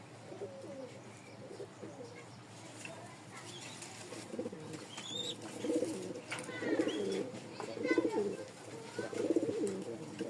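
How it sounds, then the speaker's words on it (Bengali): Rajshahi Giribaz flying pigeons, a pair in breeding condition, cooing repeatedly in low throaty bursts that swell and fade over steady background noise, with a few higher bird chirps mixed in. "হিটে আছে কবুতর জোড়াটা"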